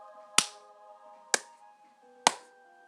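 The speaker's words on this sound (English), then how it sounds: "just two normal claps and a normal rhythm" Three sharp hand claps at an even, unhurried pace, each a crisp isolated crack with a short decay and near-silence between them, close to the microphone in a quiet room.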